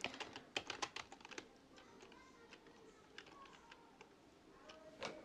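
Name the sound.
typing Pygame code on a computer keyboard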